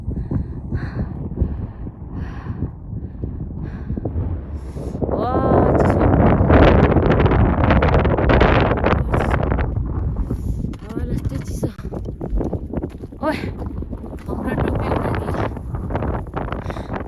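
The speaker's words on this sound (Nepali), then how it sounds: "हावा कस्तो डेन्जर लागेको" Strong mountain wind on the Langtang trek, high on the climb toward Kyanjin Ri, roars and buffets the microphone in loud, gusting surges that swell through the middle, with a person talking in places.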